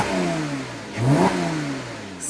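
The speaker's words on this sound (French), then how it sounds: "Lorsqu'on est à l'avant et qu'on appuie sur l'accélérateur, on a beaucoup de sensations" A 2008 Porsche Boxster's six-cylinder engine revs in a short, loud burst, pitch rising sharply then settling back, heard alone without talk.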